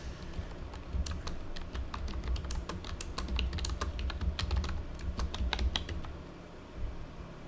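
Quick, uneven bursts of keystrokes on a computer keyboard, close and crisp, with a steady low hum underneath and no voices.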